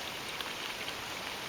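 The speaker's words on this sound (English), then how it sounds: "it's a very light rain" Very light rain falls steadily over a food forest mound fed by runoff from a driveway, a faint, even hiss of fine drops with no talking.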